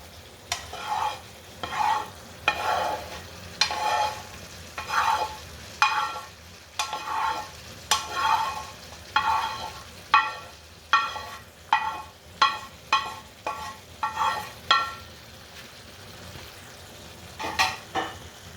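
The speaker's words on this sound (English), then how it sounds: "Now time for me to add the eggplants." Eggplants going into a frying pan with blended tomatoes give repeated scraping stirs and soft sizzling bursts in an irregular rhythm, close by with no talk.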